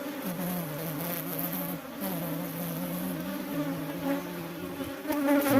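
Honeybees buzz densely and continuously around an open hive during beekeeping, a close, steady swarm drone with slight wavering pitch that grows louder at the end.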